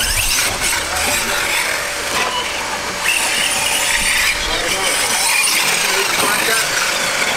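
A Tekno SCT410.3 RC short-course race truck drives on a track on its first run, giving a loud, steady motor whine and rushing tire noise that surges a little over several seconds.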